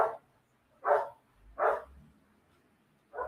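A dog barks four times in short, spaced single barks, fairly close and moderately loud, with quiet pauses between and no talking.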